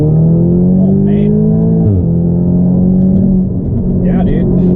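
Audi S3 with a Stage 2+ tune pulling hard in second gear, a loud, steady engine drone whose pitch climbs, dips briefly at a shift point, then climbs again, heard from inside the cabin with a voice briefly over it.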